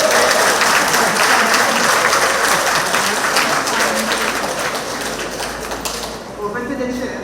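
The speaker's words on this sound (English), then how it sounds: "giving them, our participants, our judges, you, our membership, a lusty round of applause" Members at a TTARP Purple Diamonds monthly meeting in a community centre give a loud, sustained round of applause that fills the room and then tapers off, with a voice starting to speak near the end.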